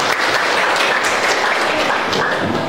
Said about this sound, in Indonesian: Oke, kasih aplaus untuk kalian semua